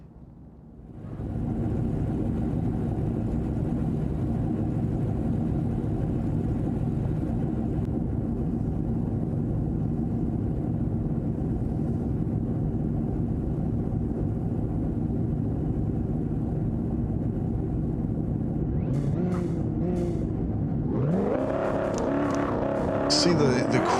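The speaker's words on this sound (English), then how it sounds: "See the quick launch there from the Lamborghini." A Lamborghini race car at a Mondello Park circuit round launches hard, its engine drone building steadily and loud, then rising sharply in pitch as it accelerates away near the end, with a roaring commentary-style voice mixed underneath.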